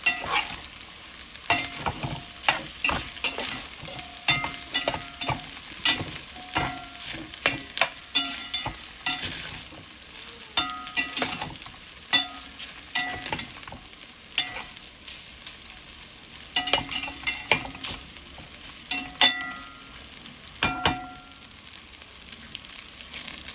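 Onion being stirred in a hot pan while cooking a tricolor rotini pasta dish: a low continuous sizzle broken by frequent sharp scraping and clanking strokes of a utensil against the pan, close up and with no voices.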